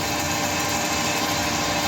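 Power drill with a 10mm bit bores through metal on Harley handlebars, a loud, steady high-pitched grinding whir that holds constant throughout, close up with no talking.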